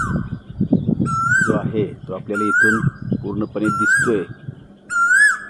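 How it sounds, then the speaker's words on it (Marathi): A male Asian koel calling nearby, four loud rising whistled notes repeated at a steady interval, heard under someone talking over them. "ठिकाणी कोकिळ आहे आणि त्याचा आवाज आपल्याला ऐकायला येतोय।"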